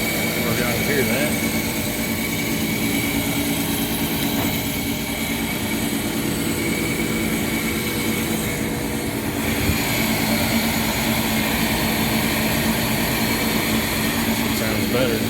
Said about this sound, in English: Combustion motor sounds like crap.